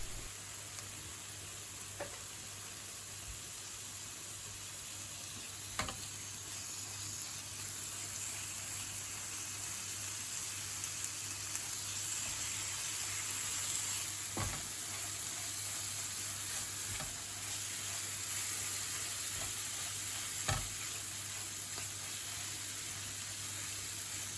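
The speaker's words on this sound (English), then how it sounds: "Add the meat, coat in the mix and fry for a couple of minutes." Meat coated in spice mix sizzles in a pan for a British Indian restaurant-style pasanda curry, a soft, steady frying hiss with a few sharp clinks of stirring, close and fairly quiet, no talking.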